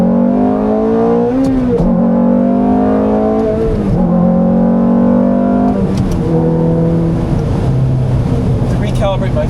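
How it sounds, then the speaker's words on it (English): A Ferrari pulling away in first gear during a clutch test, its engine revving loud and close in several rising pulls with gear-like pitch sweeps, while a person talks over it. "I actually want to do a first gear start just because we're testing clutch."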